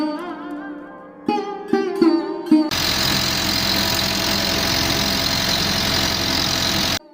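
After a few brief tonal sounds, a boat engine on the Ganges near the Benares ghats starts a loud, steady, continuous drone that runs close and unbroken until it stops abruptly at the end.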